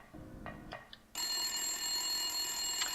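A telephone rings in the Silent Hill video game, a loud continuous electronic ring that starts abruptly after a few soft knocks and holds steady to the end.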